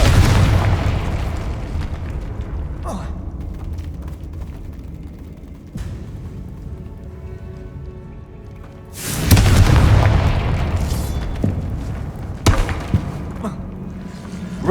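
Confringo spell explosions from the video game Hogwarts Legacy: a loud, deep booming blast rolls out at the start, and a second heavy explosion hits partway through, each followed by lingering rumble and crackle.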